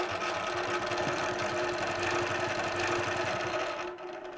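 A longarm quilting machine stitches a border line along a previous stitch line, a steady fast mechanical whir with a rhythmic needle chatter throughout that drops off slightly at the end.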